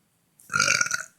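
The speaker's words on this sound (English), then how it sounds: "Oh god, that was a nasty burp." A single nasty burp, close and fairly loud, rising abruptly and rumbling for under a second before trailing off into silence.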